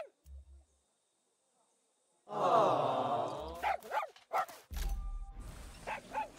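A dog in the video game Far Cry 6 gives a loud drawn-out whining bark, then several short yips and grunts in quick succession, close and clear against a quiet game background.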